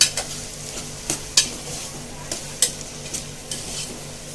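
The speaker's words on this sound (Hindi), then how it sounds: "अब इन तीनों चीज़ों को अच्छे से मिक्स करेंगे और थोड़ा भूनेंगे।" Tomatoes and green chillies for arbi masala stirred and fried in a pan, a low continuous sizzle punctuated by repeated sharp spoon clacks against the vessel at an irregular rhythm.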